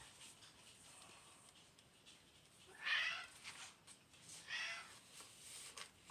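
A pet cat named Rex meows twice indoors, a fairly close call near the three-second mark and a softer one about a second and a half later, over quiet room tone.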